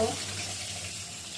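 Tap water runs steadily into a kitchen sink while raw chicken is washed, a broad continuous hiss that holds even from start to finish with no voices over it.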